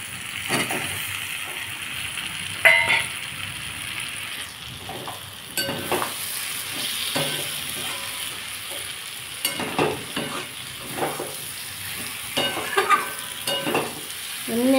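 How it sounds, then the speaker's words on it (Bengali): Fried pointed gourd (parwal) tumbled into a sizzling pan of cooked-down spiced potato curry, with steady frying sizzle and repeated scraping stirs of a spatula against the pan, close and clear with no talking. "এর মধ্যে এবার ভাজা পটলগুলো দিয়ে দেবো।"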